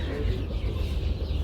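Chickens in a native-breed poultry coop holding about 210 birds on rice-husk litter, a dense continuous clucking and murmuring that sits close and steady under low rumbling background noise.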